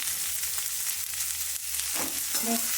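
Mixed vegetables with a pinch of salt fry in hot oil, giving a loud, steady hiss and sizzle with a few soft stirring scrapes near the end and no talking.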